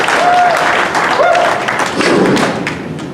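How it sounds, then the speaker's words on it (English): Loud applause from a party crowd for a couple, with close, heavy claps and thumps over a lively murmur, as a voice whoops briefly and the clapping thins toward the end. "I'd like everybody to give Benny and Carol a hell of a round of applause"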